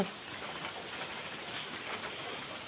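Rain falls steadily on a house courtyard, a faint, even patter that continues without a break for a few seconds.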